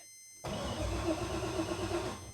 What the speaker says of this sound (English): nothing, key on, and then cranking